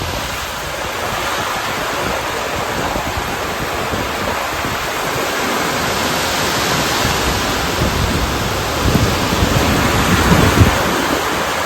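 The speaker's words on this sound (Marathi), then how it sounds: "आता पाऊस आज पडत आहे आपल्याकडे" Heavy rain pours down during a strong May storm over farm fields, a loud, dense, continuous roar with wind gusting, building slightly toward the end, with no voices.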